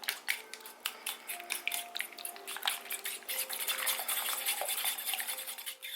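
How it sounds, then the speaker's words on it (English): A fork or whisk stirs sour cream in a bowl, making a steady run of quick clinking and scraping taps against the dish, close and fairly loud, with no talking. "You can use a fork or a whisk, but you just want to mix this together."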